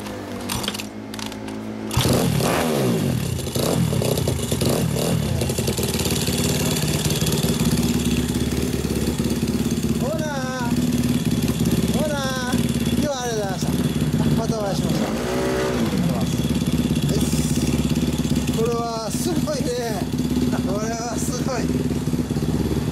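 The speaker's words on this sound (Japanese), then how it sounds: "エンジンを聞かせてください" A custom Honda XR100 Motard with an SP Takegawa dry clutch starts up and idles with a loud steady four-stroke beat. It is revved in repeated sharp blips, close to the bike, with voices talking over it.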